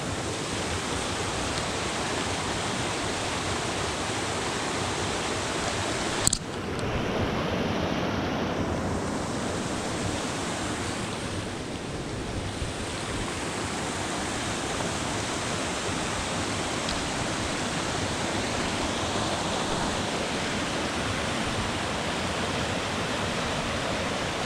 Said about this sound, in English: Bit of a waterfall there.